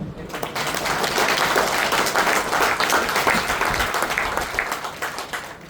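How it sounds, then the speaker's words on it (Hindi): Loud clapping from a group at a training session, a dense, steady burst of applause lasting several seconds before fading slightly. "जोरदार ताली बजाओ"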